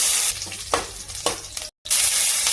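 Garlic and fennel seeds fry in hot oil for a mushroom fry, a steady close sizzle broken by a few scraping stirs and a brief dropout before the frying resumes.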